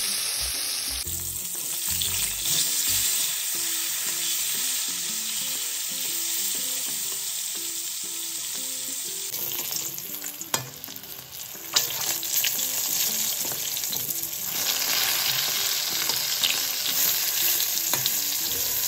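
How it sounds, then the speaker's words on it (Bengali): Aar fish pieces fry in hot oil in a wok, producing a continuous close sizzle and spatter that rises after a few soft knocks midway, with no speech. "এরপর তেলটা গরম হয়ে গেলে এর মধ্যে আমি মাছগুলোকে ভালোভাবে ভেজে নেব।"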